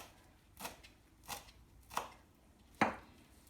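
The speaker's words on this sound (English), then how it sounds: "we are going to just roughly chop that parsley" Four separate knife strokes roughly chop parsley on a cutting board, sharp close thuds spaced about two-thirds of a second apart in an otherwise quiet kitchen.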